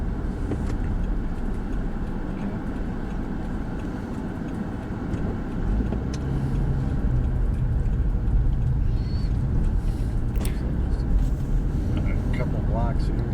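A car drives along a street and pulls up to park, a continuous close engine and road rumble that swells slightly in the second half, with talk over it.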